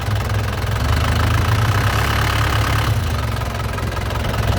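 A 2013 Isuzu Panther LV with a 2.5-litre turbo diesel engine runs loud and close with its engine bay open, giving a steady, rough diesel clatter that shifts in tone partway through. No one speaks.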